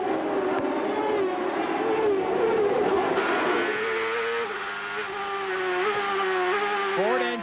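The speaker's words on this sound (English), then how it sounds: "Let's listen to the beautiful music of this Ford engine." A Ford IndyCar engine in a 1997 Champ Car race on the Gold Coast street circuit, a loud sustained roar whose pitch climbs and steps through gear changes, with a second engine tone layered over it.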